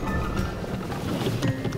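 Boat engine revving hard at full throttle while the hull is grounded on the bottom: a steady, loud, rough roar mixed with wind buffeting and water noise.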